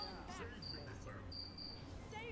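A cricket chirps in short, high repeated trills over a low background hum, with faint voices murmuring nearby, during Smite gameplay.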